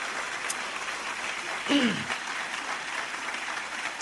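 A church congregation applauds the Lord after a sermon, a diffuse, moderately loud wash of clapping that holds steady throughout, with a brief voice rising over it midway.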